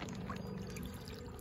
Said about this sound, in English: You can probably pour the bag out right there, Daniel.